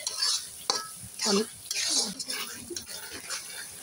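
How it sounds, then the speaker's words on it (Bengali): Eggs fry while a spice paste is stirred in a pan, giving soft sizzling and scraping with brief utensil clinks, quiet and intermittent, with voices now and then. "এদিকে ডিম ভাজা হচ্ছে, ডিমের মশলা কষানো হচ্ছে"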